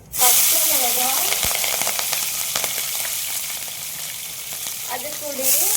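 Whole cinnamon and cloves drop into hot oil and sizzle loudly, a dense steady frying hiss close by, with occasional stirring scrapes and a bright burst at the very start and again near the end; a voice speaks faintly underneath.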